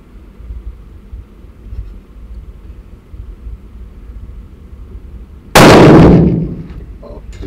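One loud, sharp gunshot at a shooting range in Bali rings out and decays over about a second, after several seconds of quiet low rumble.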